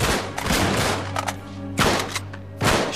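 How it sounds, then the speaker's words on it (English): Enemy gunfire in Uncharted 3: Drake's Deception, with several loud broadband bursts of shots, one near the start and others later, separated by a lower sustained game rumble. "He's shooting."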